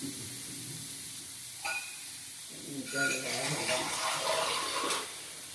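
A little water poured into a hot pan of chicken masala, a quiet sizzle that bursts into louder bubbling hiss about halfway through, with brief clinks and faint voices in the background.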